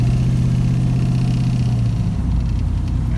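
A Mustang engine fitted with Holley Sniper EFI fuel injection revs loudly and up close, its steady roar climbing in pitch and then easing back down, with no other sound.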